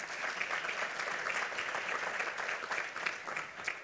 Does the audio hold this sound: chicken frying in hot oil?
no